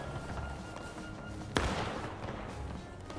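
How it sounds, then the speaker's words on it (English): Cannon shot in the Civil War game War of Rights: a single sharp blast about midway, standing out over steady battlefield noise and distant gunfire. "Cannon shot flying through."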